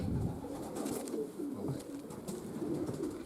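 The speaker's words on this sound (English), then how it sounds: "Just going to look at a few older race pigeons now that have flown very well." Racing pigeons cooing softly inside a loft, a low steady murmur of several birds with faint rustling, close and continuous with no talking.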